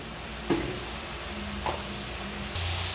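Spice paste of ginger, garlic, turmeric and chili frying in a pan for a thin rohu fish curry with cauliflower, potato and pointed gourd, a steady close sizzle and hiss broken by a few stirring scrapes.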